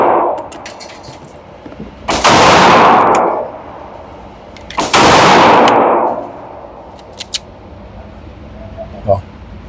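Gunshots from a Great Lakes Synergy firearm at a shooting range, two loud sharp reports a few seconds apart, each followed by a ringing tail, with lighter metallic clicks and handling noises between them.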